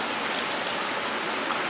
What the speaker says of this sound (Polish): Jeszcze woda niech schodzi.